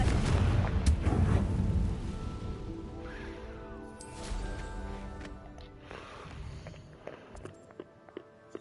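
A Confringo fire spell blast in Hogwarts Legacy hits with a heavy explosive boom and crackle, then decays into rumbling debris, with smaller impacts and thuds following over several seconds.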